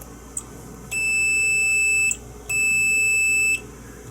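A continuity tester's buzzer gives two long, steady electronic beeps of about a second each, separated by a short gap, loud and clear against a quiet background.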